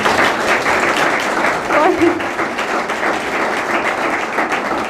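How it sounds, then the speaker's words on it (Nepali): An audience applauding at a TV program's 100th-episode celebration, a steady wash of many hands clapping that stays loud throughout, with a voice briefly heard over it. "ताली अलि पुगेन कि जस्तो लाग्यो।"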